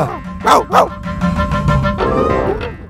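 A voice imitates a dog, letting out two sharp barks followed by whining, yelping dog-like noises, loud and close.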